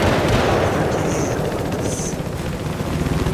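Gunfire in Battlefield 4, dense rapid bursts of automatic shots crackling over a loud continuous battle din, with brief high whistling effects layered above.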